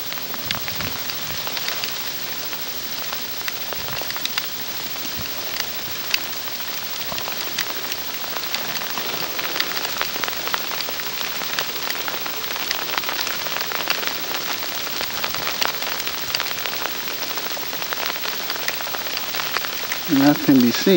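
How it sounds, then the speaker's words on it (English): Sleet pellets fall steadily and bounce on the ground during a heavy burst, making a dense, continuous hissing patter that carries on for the whole stretch and grows slightly louder near the end. "Now we have a big burst of moderate sleet, which is quickly whitening the ground up."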